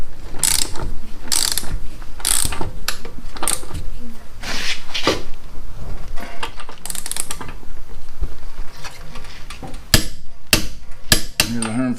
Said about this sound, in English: I'm going to tighten this up to 159 foot-pounds